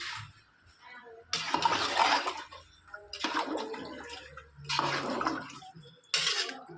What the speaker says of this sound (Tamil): வெந்நீர் சுடு தண்ணி தான் நம்ம சேர்த்துருக்கோம்